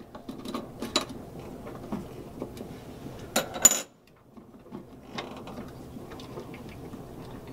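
Metallic clicks, ratcheting and clinking as a hinge bolt on a boat window is undone to fit a deadlight, close and intermittent, with a brief sharper rattle before a short quiet pause and more scattered clicks.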